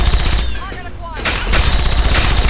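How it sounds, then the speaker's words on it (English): Rapid bursts of gunfire in the video game Fallout 3, loud and continuous with a short lull in the middle, mixed with voices in the game. "Opening fire!"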